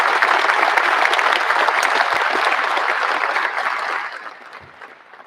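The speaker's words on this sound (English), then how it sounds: "Let's give the family a round of applause, please." Audience applause for the family at an Air Force base group change of command ceremony, dense and loud, holding steady for about four seconds and then tapering off to quiet.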